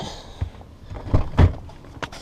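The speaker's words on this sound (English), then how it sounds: "open the door, take the key out, close the door" A Chevrolet Silverado pickup's door is handled, with a few dull thunks and latch clicks scattered over two seconds, the heaviest one near the middle as the door shuts close by.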